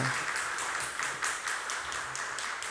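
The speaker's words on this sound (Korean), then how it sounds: "박수 한 번만 더 하면 좋겠습니다" Congregation applauding during a Sunday church service, a short, steady patter of many hands at moderate distance with a faint rhythmic pulse.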